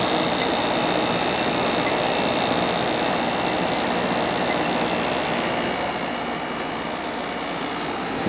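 A Samsung 10,200 BTU air conditioner runs with a steady, close whooshing fan and low compressor hum that stays constant throughout, easing slightly toward the end.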